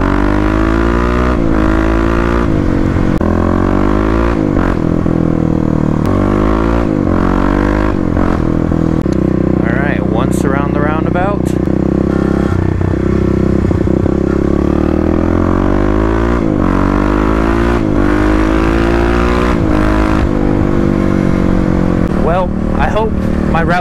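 A 2018 Kawasaki KLX351 motorcycle fitted with a full Barker exhaust being ridden, its engine loud and close as it revs up and drops back repeatedly through the gears, with sharp crackles between pulls.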